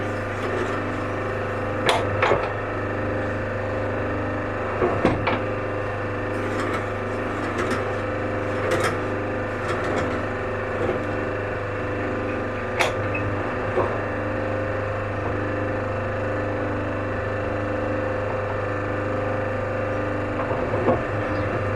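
Wood lathe spinning at a steady hum while a drill bores through a pen blank, with occasional sharp clicks and knocks over the continuous close drone.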